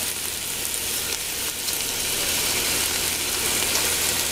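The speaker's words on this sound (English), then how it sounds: "We're just going to drop them into the pan." Octopus pieces are dropped into a hot pan for a Chianti and tomato braise and sizzle loudly, a steady broadband hiss that holds strong and unbroken for several seconds.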